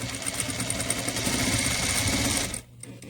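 A sewing machine runs steadily, stitching a fabric face mask along a quarter-inch seam, its motor whirring continuously for over two seconds before stopping abruptly, leaving a quiet room.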